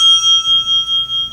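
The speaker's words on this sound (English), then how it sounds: "You may begin when the bell rings." A debate timer bell at a local televised debate in Sault Ste. Marie rings in a rapid, steady string of about six bright metallic dings, clear and close with no talking.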